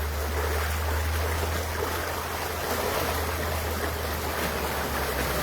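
Loud, steady rush of floodwater pouring through a road outflow channel in Linden, Guyana, close and continuous, with a low constant rumble underneath and no speech.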